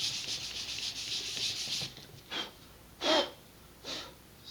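Sandpaper rubs over the wood of an Estes Doorknob model rocket, starting with a continuous close scratchy rasp, then breaking into three separate short sanding strokes.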